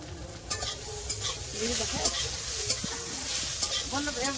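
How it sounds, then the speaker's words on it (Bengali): Okra and pointed gourd fry in hot oil with a steady sizzle, broken by scraping stirs of a utensil in the pan, close and moderately loud. "ভেড়ি ভাজা হচ্ছে এটা"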